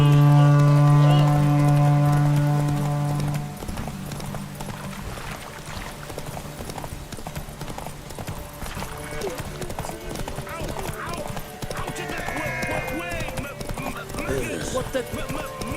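Horse galloping in The Witcher 3 video game: steady, close clip-clop of hooves with a whinny near the start, over background game music and voices.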